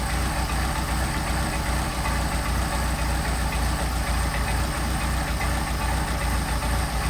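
A Mercedes 190SL engine with Solex carburetors idles steadily, a loud, close, even mechanical rumble with a constant pulsing throb and no voices.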